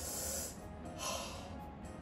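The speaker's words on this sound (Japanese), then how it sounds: "ダゾーンがハイライト始まる前の効 果音です" DAZN highlight intro sting: a breathy, hissing exhale swells twice over a couple of seconds, airy and close, with no talking over it.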